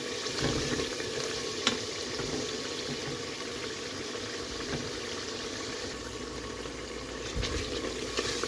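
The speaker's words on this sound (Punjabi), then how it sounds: "ਮਸਾਲਾ ਸਾਡਾ ਬਸ ਭੁੱਜ ਗਿਆ।" Spice masala sizzling in a pan for a cheese and cauliflower paratha filling, a soft continuous crackle with light stirring, fairly quiet and steady throughout.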